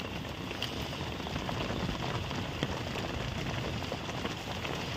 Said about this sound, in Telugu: ఇలాంటి వర్షం చాలా కష్టం ఉండడం, చాలా బాధాకరమైన విషయం